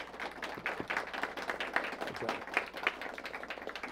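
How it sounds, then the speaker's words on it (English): Audience applause for the judges at a school academic competition, steady dense clapping from a crowd throughout, moderately loud and sustained without talk. "Give our judges a round of applause for the hard work they do."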